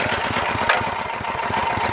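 Small engine on a Klicka 15-ton log splitter running at a steady, rapid chug, loud and close, with a rattling pulse throughout and no talk.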